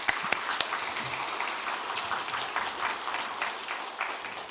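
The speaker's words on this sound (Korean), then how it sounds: "우리 강사 목사님 감사하다고 박수 한번 하겠습니다." A congregation applauds at a spring revival service in a church, a soft, fairly distant patter of many hands clapping that continues evenly, with a few sharper claps standing out.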